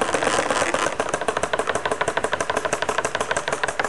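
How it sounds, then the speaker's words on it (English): A diaphragm pump runs nearby with a fast, steady pulsing rhythm as its ball valves close, sending pressure shocks that make the piping shake and rattle in regular, loud beats. "as I turn the pump on, you will be able to see the pressure wave going back down the piping system, and the pipe will be shaking"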